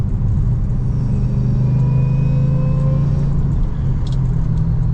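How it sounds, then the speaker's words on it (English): A supercharged manual Lexus GS400 cruises in fourth gear at 55 mph and takes a small throttle input, its engine giving a loud, steady low rumble with a faint rising whine and no clear rev spike. "I just want to show you a small throttle input"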